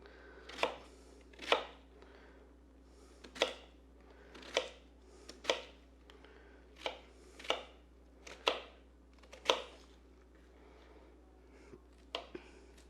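A knife chops through onion on a cutting board in about a dozen distinct, fairly regular strokes, each a crisp close thud, with no talking.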